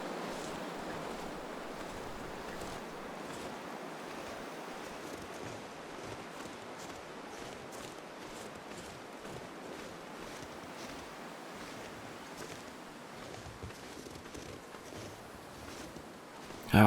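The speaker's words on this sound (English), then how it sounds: "Oh, the wind is pretty strong though" Strong wind blows across a snowy wilderness in The Long Dark, a steady rushing roar that holds at an even, moderate level throughout with no voices.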